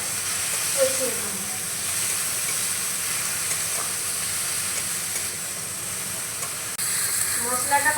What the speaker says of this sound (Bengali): তো এবার পেঁয়াজ বাটাটা মশলার সঙ্গে দিয়ে কষিয়ে দেবো।